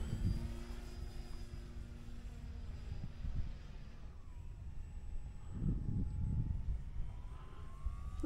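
E-flite T28 1.1-meter electric RC model plane flying at a landing field, its thin motor whine sweeping and Doppler-shifting as it passes at a distance, with faint gusty background noise.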